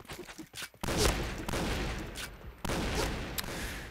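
Gunfire in the Point Blank shooter game, with loud bursts of shots starting around one second in and again near the end, over continuous game noise.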